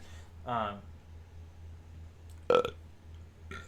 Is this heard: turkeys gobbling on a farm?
no